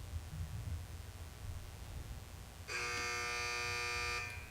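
A harsh electronic quiz buzzer at a quiz competition sounds once, steady and loud for under two seconds, over a low background hum.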